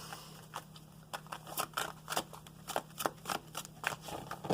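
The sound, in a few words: shuffling tarot cards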